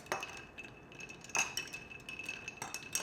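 Ice dropped into a glass for a gin martini gives a few sparse, quiet clinks and knocks, spaced apart over a soft background, with no voices.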